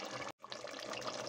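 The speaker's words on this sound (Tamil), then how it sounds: "1 கப் ரைஸ்க்கு 2 கப் தண்ணி சேர்க்கணும்" Water poured into a pot for rice biryani in a pressure cooker: a short, close splashing stream, briefly broken by a split-second gap before pouring resumes.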